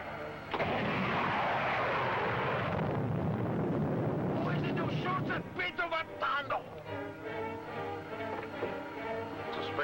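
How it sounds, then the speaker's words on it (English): A spaceship missile launch effect from a Rocky Jones space-ranger serial: a loud rushing, explosive blast for about three seconds, then a rumbling tail broken by sharp crackles and a voice. "Prepare to fire a 3rd missile, Biff"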